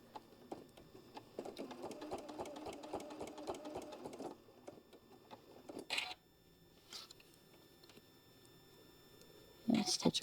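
A sewing machine stitches an oven mitt in a quick, steady run of needle strokes for a few seconds, then stops, followed by a few soft clicks and handling sounds close by.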